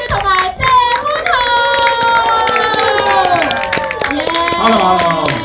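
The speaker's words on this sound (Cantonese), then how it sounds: "麻煩大家用最熱烈嘅掌聲歡迎佢哋好唔好啊？" Audience applause and cheering welcoming a film's director and cast at a thank-you screening of Night King, with dense clapping overlapped by bright music and tonal voices throughout, loud and sustained.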